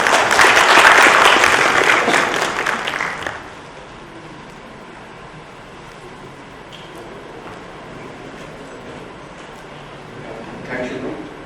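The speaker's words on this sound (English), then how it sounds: "Guys, a round of applause please." Loud applause from an event audience greets a presenter, dense and close for about three seconds before cutting off to a quiet room murmur.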